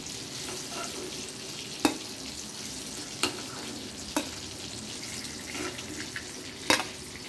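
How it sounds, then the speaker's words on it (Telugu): Eggplant pieces frying in hot oil, a steady close sizzle with a few sharp clicks and taps from a spatula against the pan, no one talking. "ఆయిల్లో బాగా వేగిపోయినాయండి"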